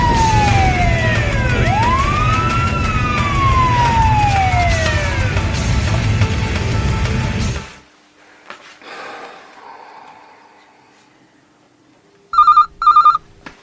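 A loud wailing police car siren sweeps up and down, then cuts off to near silence before a brief electronic ringing tone.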